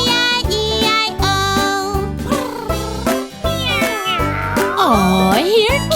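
Repeated meows from a cat sound over a bouncy children's farm-animal song in a steady rhythm, with a sung voice joining and bending toward the end.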